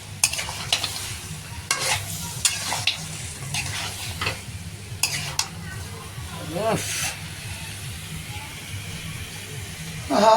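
Spices being stirred in a pan with a drop of water, a soft scraping, sizzling hiss with repeated spoon strokes, heard close alongside a steady background hum and occasional voice.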